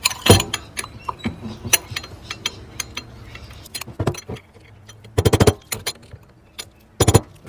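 A turbo bearing cage for an HKS GT2835 rebuild is tapped into place, giving sharp metallic clinks and knocks, close up, in scattered single hits and quick clusters of several strikes with quiet gaps between.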